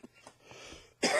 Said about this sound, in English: I'm going to cough my lung up.